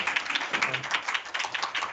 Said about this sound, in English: Why don't we give him a big round of applause?